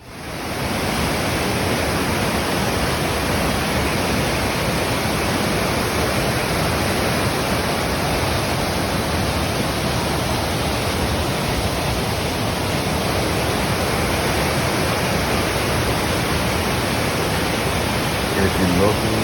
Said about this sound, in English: You wanted to witness the clear water and the sounds of that beautiful waterfall